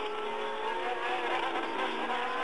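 Formula One cars race at the 1979 French Grand Prix, including a flat 12 Ferrari and twin-turbo Renaults, a steady high engine whine held at speed, fairly loud and continuous, with no talk.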